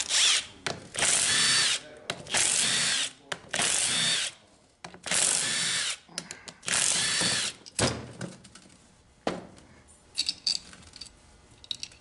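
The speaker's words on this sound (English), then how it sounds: "Take these bolts out." Power drill spinning out bolts from a Ford 4R75W/4R70W transmission pump during a teardown, heard as a series of loud, close whirring bursts of about a second each, separated by short pauses and small metallic clinks.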